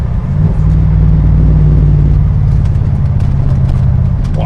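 A deep, throaty Morgan Aero 8 Roadster engine rumbles loudly and steadily up close after a downshift, with a low growling burble and faint crackles near the end.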